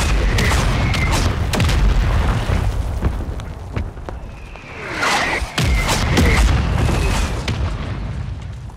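Airstrike explosions in a Call of Duty match, a string of loud, heavy booms with deep rumbling tails and sharp blasts that overlap and continue almost without pause.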